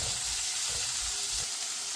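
Small onions sautéing with salt in a pan for a pork dish make a continuous close sizzle and hiss, fairly loud and even throughout.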